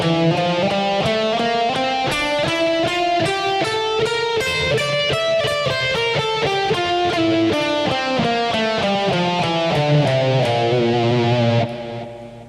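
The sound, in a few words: guitar playing the Lydian mode scale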